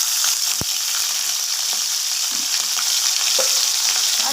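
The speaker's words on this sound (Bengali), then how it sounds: "এবার আমি ওই একই তেলের মধ্যে এখানে দিয়ে দেব আমি হাফ চামচের মতো আদা" Half a spoon of ginger paste hisses in hot oil left from frying nuts. A dense, even sizzle runs close by, with occasional soft clicks of stirring.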